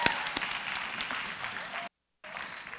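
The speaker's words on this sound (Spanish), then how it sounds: "en ese aplauso bíblico" A church congregation claps together in a sustained burst of applause, loud and close, with a brief dropout of complete silence before the clapping resumes.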